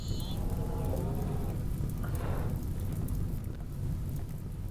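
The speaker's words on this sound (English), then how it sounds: "Oh, the rain's going to be nice." Rain and thunder in the RimWorld video game: a steady dense hiss of rainfall with a low rumbling roll of thunder underneath, continuous and fairly loud throughout.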